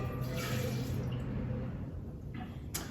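Rioja wine being poured away, a steady splashing, trickling stream of liquid that runs close and continuous for a few seconds over faint room noise.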